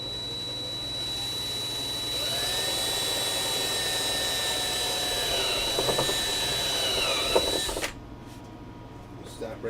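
A power drill bores into a Christmas bulb antenna mount, with a steady high whine that holds for several seconds, shifts in pitch, then cuts off abruptly near the end, and a voice speaks over it.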